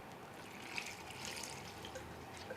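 Water pouring into a pot of figs to soften them for Sicilian cuccidati, a soft, steady trickle that runs continuously for a few seconds at close range with no talking.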